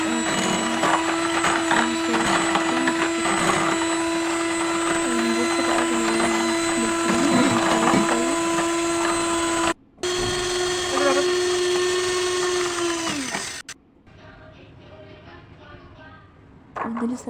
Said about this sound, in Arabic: نفضل بقى نضرب فيه لحد ما يضرب والقوام يتقل